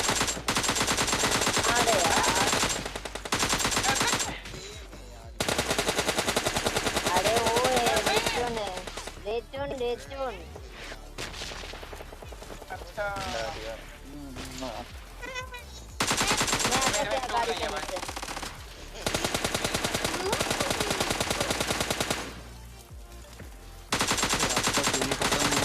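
Gunfire in the mobile battle-royale game PUBG Mobile: dense, sustained bursts of automatic shots filling long stretches, broken by brief pauses, with a voice talking intermittently between volleys.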